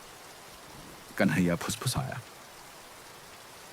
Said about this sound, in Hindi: बारिश लगातार थपथपा रही थी।